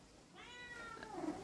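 A cat gives a single drawn-out meow, rising then falling in pitch, fairly faint against a quiet background.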